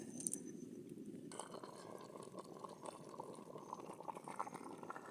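A pot of food boils over an open cooking fire in a village, giving a steady low bubbling and gurgling, with a faint crackle that continues without talk.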